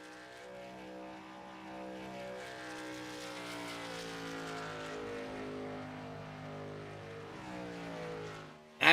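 The number 30 race car with a Nickelodeon paint scheme drives onto the Kansas track in a racing video game, its engine holding a steady, buzzing drone that swells slightly and stays moderately loud throughout.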